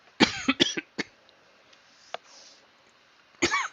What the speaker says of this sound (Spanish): perdón, que es que he tenido mucha tos